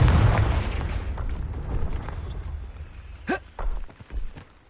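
A Confringo blasting spell from Hogwarts Legacy goes off as a heavy, rumbling boom with a long noisy tail, followed by a few sharper crackling bursts and pops toward the end.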